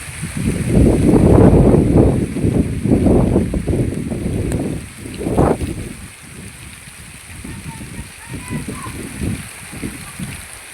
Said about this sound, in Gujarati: ભારે વરસાદ છે. જો મિત્રો, વાવાઝોડા સાથે